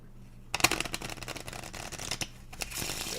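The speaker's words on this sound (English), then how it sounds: "I'll add one more shuffle just for that." Playing cards riffle-shuffled by hand at a close distance, with a quick burst of crisp flutters followed by scattered taps and softer riffling, all heard alone.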